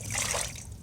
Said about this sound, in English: If it gets to the bottom, I just pour it into the cup.